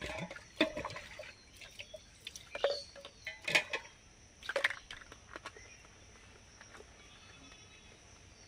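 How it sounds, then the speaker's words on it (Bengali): A baby's milk bottles being scrubbed with a bottle brush under water, giving scattered splashes, brushing swishes and knocks against the bottle in irregular bursts, close and fairly quiet, trailing into low trickling. "প্রত্যেক দিন কিন্তু এভরিডে প্রত্যেক দিন আমি এইভাবেই কিন্তু বোতলগুলো ধুই"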